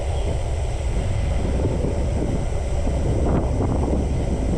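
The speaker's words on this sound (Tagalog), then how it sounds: "Sarap ng hangin" Steady, loud wind rushing over the microphone while cycling downhill, a continuous low roar with no letup, as if moving fast through open air.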